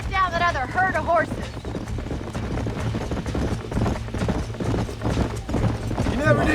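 Horses gallop in the video game Red Dead Redemption, a rapid clip-clop of hooves under a voice speaking and background game sound, with a brief whinny near the start.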